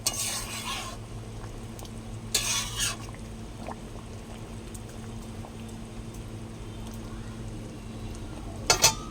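Bata fish curry simmers in a pan with a low, steady bubbling bed, broken by a few short bursts of stirring and clinking utensils against the pan.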